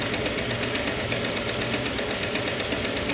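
Sewing machine running continuously while stitching a kimono jacket, a fast even mechanical hum and rattle, close and steady throughout with no voices.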